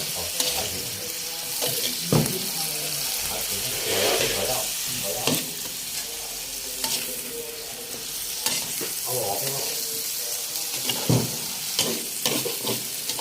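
Cauliflower stir-fries with seasoning sauce in a hot pan, a loud, close, continuous sizzle broken by repeated scraping and clattering strokes of a spatula tossing the food.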